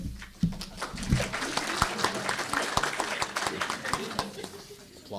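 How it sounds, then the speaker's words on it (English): Audience applause at a faculty awards celebration, distinct claps rising quickly and continuing with uneven hand strikes, fairly close, with a few voices mixed in. "Applause."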